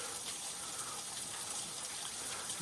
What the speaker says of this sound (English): Got a nice little waterfall here.